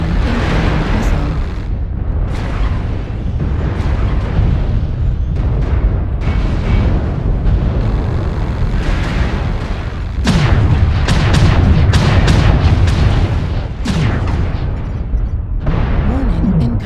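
Missile explosions and weapon fire from a King Crab mech in MechWarrior Online make a dense, continuous barrage of booms and blasts that stays loud throughout, with sharper impacts standing out now and then.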